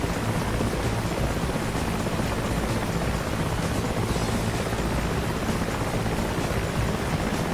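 A dense, continuous rotor roar from Mi-8 and Apache helicopters in the DCS World combat game, loud and unbroken throughout, with no talking over it.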